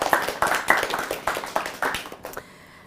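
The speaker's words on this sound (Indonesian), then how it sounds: "Tepuk tangan dong." An audience claps steadily for about two and a half seconds, with the crisp, fairly close hand claps fading out into near silence at the end.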